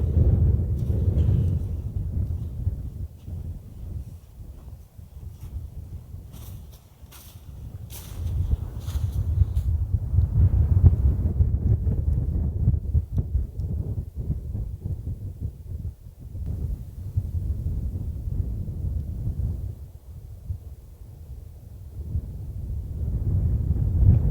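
Wind buffets a tent during snow camping, a low roaring rumble that swells and eases in gusts, close and muffled against the fabric, with no voices.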